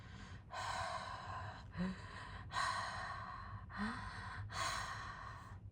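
A voice imitates panting: long heavy breaths in a slow steady rhythm, close and breathy, with brief gasping catches between them.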